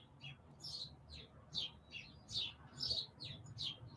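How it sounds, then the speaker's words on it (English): A house sparrow chirps outside an open window, a run of about a dozen short, bright chirps in an uneven rhythm, fairly faint over a low room hum. "House sparrow. Nothing too exciting."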